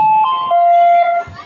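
A Selecta ice cream jingle played for a party sound-guessing game, a loud electronic tune of a few held, bell-like notes that fades at the end, with faint voices in the background.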